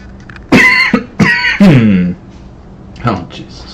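A man coughs near a microphone during a Star Citizen game stream, several sharp, loud coughs in a quick cluster followed by a softer one, with a throaty clearing sound in between.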